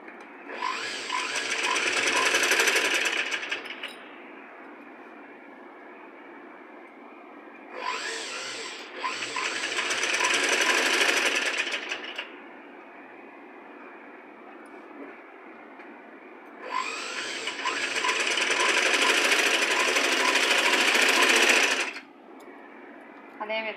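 A sewing machine stitching fabric for piping along a neckline, running in three separate bursts of several seconds each, loud and close, with quiet pauses in between.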